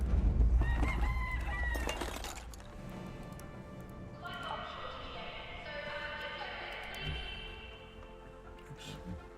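A rooster in the Chill Raider video game crows and clucks, loud and close at first, followed by a drawn-out call against other game sounds.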